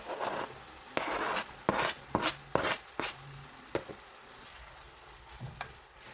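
Chicken and chopped onions sizzle quietly in a pan while a utensil scrapes and knocks against it in a series of sharp, uneven strikes.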